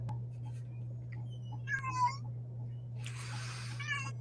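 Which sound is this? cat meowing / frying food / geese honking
cat meowing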